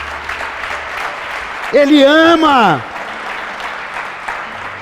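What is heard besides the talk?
church congregation applauding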